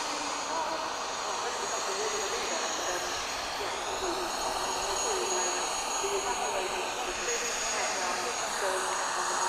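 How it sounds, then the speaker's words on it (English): Chinook helicopter finishing a flying display at Farnborough Airshow, a loud continuous roar with whining engine tones, heard from a distance in open air. "there goes the Chinook finishing their display"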